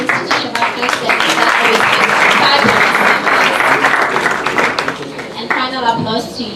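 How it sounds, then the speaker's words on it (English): Audience applause at an academic talk on Black lives and decolonizing the academy, a steady loud roar of clapping from a sizable crowd lasting the whole stretch, with voices mixed in near the end. "shall we give another applause to African institutional president?"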